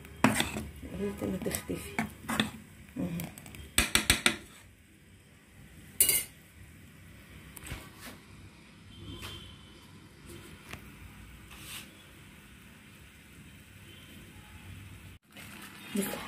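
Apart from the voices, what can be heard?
stirring fenugreek mixture in a pot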